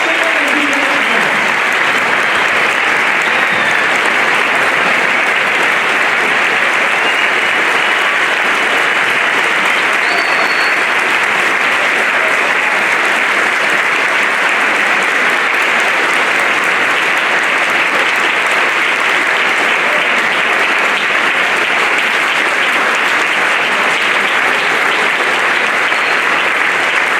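A long, sustained round of applause fills a school Veterans Day assembly as veterans stand to be recognized, steady dense clapping from a large audience with faint crowd murmur underneath.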